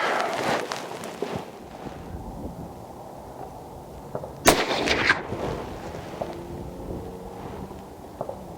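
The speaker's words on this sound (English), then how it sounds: "we'll shoot 5 rounds in the top right bullseye now" A Springfield Model 2020 Redline rifle firing 178-grain rounds at a target produces a single sharp, loud report with a short echoing tail amid outdoor wind and faint handling noises.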